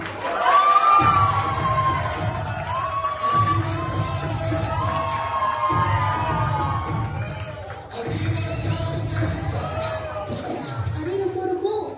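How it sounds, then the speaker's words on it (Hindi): Audience at a college fest play cheering and whooping loudly, with crowd noise and shouts in bursts and some voices calling out over a continuous din. "तो आइए तालियों के साथ स्वागत कीजिए।"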